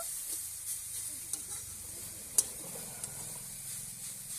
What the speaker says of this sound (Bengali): গুড়টা নারকেলটা আমি একটুখানি ভেজে নেব